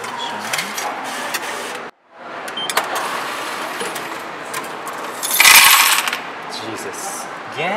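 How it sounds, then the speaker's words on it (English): A ticket vending machine in Japan pays out a long run of 10 yen coins that clatter and jingle continuously into the tray, with a brief pause near the start and a louder burst of metallic rattling toward the end. "Too many 10 yen coins."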